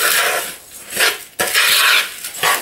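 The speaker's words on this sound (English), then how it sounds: "So just mix your dry ingredients as best you can." Dry ingredients for homemade protein bars are stirred in a bowl, a spoon scraping and clinking against the sides in repeated gritty strokes, close and fairly loud, with no talking.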